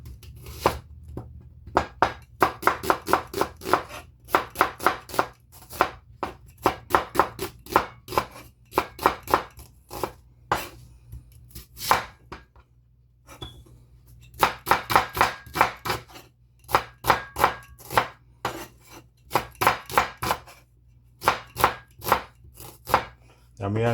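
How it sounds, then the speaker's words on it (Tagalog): A knife chops ingredients on a board for a crab and shrimp coconut-milk dish, with bursts of rapid, close, crisp taps separated by short pauses and a low hum underneath. "Tadtarin natin."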